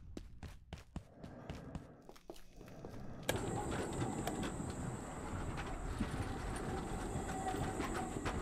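Tram rolling on rails in the game Abiotic Factor: a few sharp footstep-like knocks first, then a sudden, continuous, loud rumbling clatter of the moving car.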